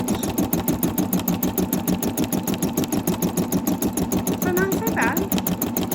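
An embroidery machine stitches a quilt with a loud, fast, evenly repeating mechanical chatter that runs throughout, while a person speaks briefly over it.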